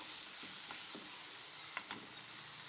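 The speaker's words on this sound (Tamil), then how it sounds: "இந்த வெங்காயம் வதங்கிறதுக்காக ஒரு கொஞ்சமாக உப்பு போட்டு வதக்கி எடுத்துக்கலாம்" Onion and tomato sautéing in a pan with a little salt, a steady soft sizzle throughout with a few faint stirring scrapes, no talking.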